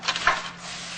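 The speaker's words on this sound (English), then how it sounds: "just spray this down" A short burst of olive oil from a spray can, a couple of quick hissing puffs close up, fading into a quiet background hum.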